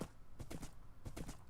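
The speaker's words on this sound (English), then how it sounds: "what we're going to do is jump upon our horse and head out towards" Horse hooves clip-clop in quick, light pairs of beats while riding across Minecraft terrain, close and fairly faint, with no talking.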